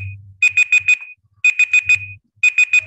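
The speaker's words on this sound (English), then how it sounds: "Sorry, there's something beeping." An electronic alarm beeps in repeated bursts: a tone followed by four quick pulses, repeating about once a second, loud and close.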